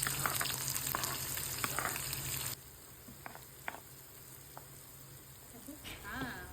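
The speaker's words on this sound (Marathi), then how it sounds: "मग त्यामध्ये आपण कांदा टाकून तो गोल्डन ब्राऊन होईपर्यंत शिजवून घेऊ." Onion frying in a pan with ginger garlic paste and cumin, a steady close sizzle with scattered crackles that drops to a quieter hiss partway through, then a few louder pops and bubbling near the end.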